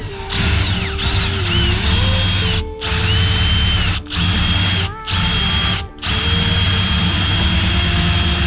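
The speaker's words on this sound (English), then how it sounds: "I'm now going to switch to the spade bit to drill the hole for the wires to come through." A power drill with a spade bit bores a hole in a shed wall, its motor whining loudly in long bursts separated by brief pauses as the trigger is released and pressed again.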